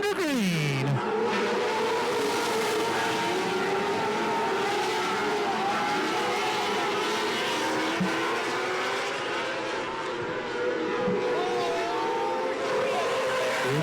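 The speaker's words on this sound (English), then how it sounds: "It's time for 25 laps with our A-Class as they go into corner number 3" A-Class race cars sweep through the corners at KAM Raceway with a loud, sustained engine roar that rises and falls as several cars pass. A commentator talks over the engine noise.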